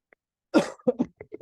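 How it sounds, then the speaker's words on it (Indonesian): A few sharp coughs and throat-clearing bursts, close and fairly loud, following a brief pause of quiet. "ada batuk-batuk"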